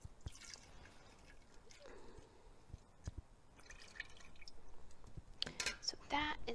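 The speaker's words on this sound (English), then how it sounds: "we'll pour in the evaporated milk at the same time" Evaporated milk is poured into an ice cream mixture as quiet liquid drips and trickles. Soft speech is also heard, and the pouring grows into a louder stream toward the end.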